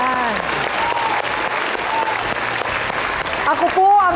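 A studio audience bursts into steady, loud applause that fills the room for several seconds on a Filipino talk show, with a host's voice rising over the clapping near the end.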